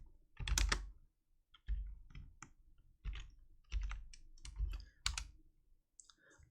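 Someone types a command on a computer keyboard in Linux Mint, giving quiet, close clicks in short irregular bursts separated by brief pauses, with no voices.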